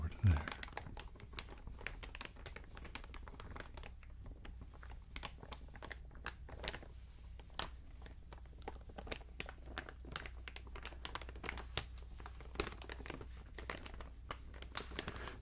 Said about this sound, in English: more low-pitched crinkle sounds out of the larger plastic bag